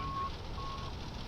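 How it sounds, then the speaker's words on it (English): Two thin electronic cockpit warning beeps in the X-Plane 11 flight simulator sound over a low, steady engine hum, evenly spaced and fairly quiet. "Something's beeping at me."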